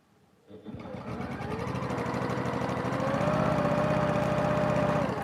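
A sewing machine stitches quilt binding in a straight line, starting up and settling into a steady, close mechanical whirr that runs alone at moderate volume.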